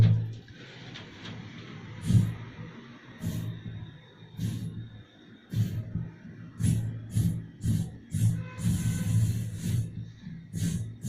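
A voice mimics the jingle of anklet bells on someone walking and running, with bursts of bright, shimmering clicks over breathy low rumbles in an uneven stepping rhythm, gaining speed and density toward the end.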